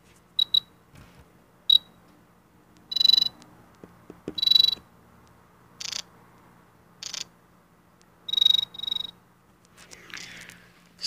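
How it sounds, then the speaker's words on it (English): An Arduino microcontroller plays synthesized electronic cricket chirps, short high-pitched bursts that repeat irregularly in small clusters against near silence, some fading in and out. "I've programmed it with my volume library to create what I think are convincing cricket sounds"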